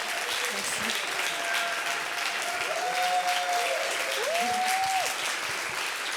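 A film festival audience applauds loudly and steadily throughout, a dense continuous wash of clapping with a voice talking briefly over it.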